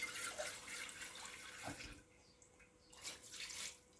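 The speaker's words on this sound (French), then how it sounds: "Je les rince à l'eau froide." Cold tap water pours into a kitchen sink to rinse drained cooked spaghetti, a steady close rush with a few shifts and splashes, and no voices.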